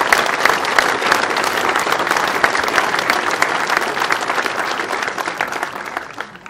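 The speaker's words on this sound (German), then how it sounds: "wir geben uns jetzt alle einen großen Applaus für diese große angetretene Gruppe" Audience applause fills a fire station opening ceremony in Wallern an der Trattnach, dense steady clapping from a large crowd that holds throughout and fades slightly at the end.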